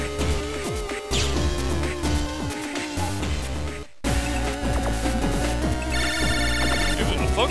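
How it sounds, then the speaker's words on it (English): A telephone rings inside the Mega Man Battle Network 5 video game, a bright repeating electronic ring over dense game music, with a short drop near the middle before the music resumes. "Lan, phone call!"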